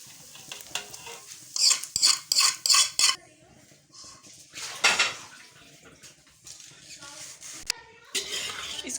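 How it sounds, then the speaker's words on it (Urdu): Eggs are stirred and tossed into vegetable egg fried rice in a pan, made restaurant style: a run of loud, rhythmic metal scrapes and clatters, then scattered lighter stirring over a soft sizzle, with no one talking. "اس کو اچھی طرح مکس کر لیں گے۔"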